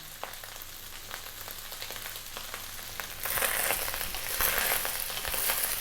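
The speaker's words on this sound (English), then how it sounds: "That is your rice frying." Steady crackling sizzle of rice frying in a hot pan for Thai chicken fried rice, with scattered pops, growing louder and busier partway through.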